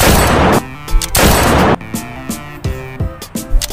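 Several sharp, bursty pops from a small toy pistol, each a brief crackling blast followed by short ringing tones, fired in quick succession.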